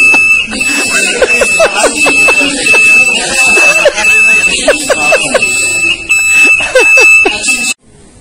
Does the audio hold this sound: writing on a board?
no